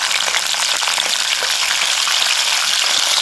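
Cashews and raisins fry in hot oil in a pan for Kerala chicken biryani, giving a loud, steady, close sizzle that holds without break and with no talking.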